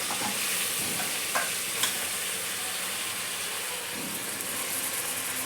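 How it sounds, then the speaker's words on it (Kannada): Mutton pieces going into a hot pan and frying, a dense, even hiss of sizzling oil with a few brief clicks of utensils. "ಇವಾಗ ಮಟನ್ ಹಾಕೋತಾ ಇದ್ದೀನಿ."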